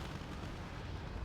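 Rumbling artillery barrage in the strategy game Wargame Red Dragon, a continuous low roar of distant shell fire and explosions blending together without a break.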